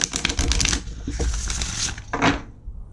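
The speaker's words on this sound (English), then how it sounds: "I shuffle it really nicely. And let's shuffle." Oracle cards being shuffled up close, bursts of rapid riffling clicks and flutters with brief pauses between them.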